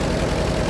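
A 1953 Allis Chalmers WD farm tractor engine idles, giving a brief, steady low rumble with even chugging pulses, close and fairly loud, with no speech.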